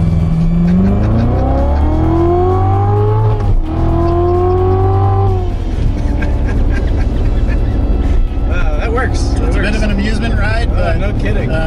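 A manual car holds at the launch control rev limit, then the clutch drops and it launches hard, engine pitch climbing steadily through the gears. Loud and close throughout, with a person talking over it.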